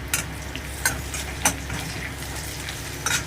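Two green chillies go into frying onions; a steady frying sizzle fills the pan, broken by a few sharp taps of a utensil against the pan.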